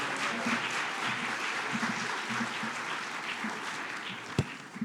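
A hall audience gives sustained, dense applause for the city's mayor at a celebration of the first African-American majority elected to city council, steady and loud throughout with scattered louder claps near the end.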